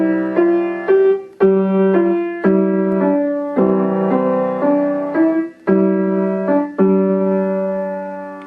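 Piano plays a simple, steady melody with left-hand chords, Beethoven's Ode to Joy at a beginner's pace, each note struck clearly with sustained decay between phrases; no voices, just the instrument up close.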